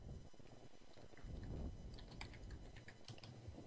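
Quiet, rapid clicking of computer keyboard keys, an irregular stream of soft taps with a faint hum behind it.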